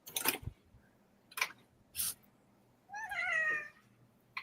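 A single drawn-out cat meow rises and falls, preceded by a few sharp clicks and taps in an otherwise quiet room.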